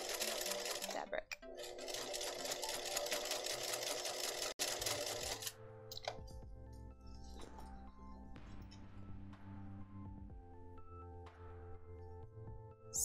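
Sewing machine stitching a fabric coffee cozy, a steady whirring run that stops and restarts in several short bursts, close and clear with no talking.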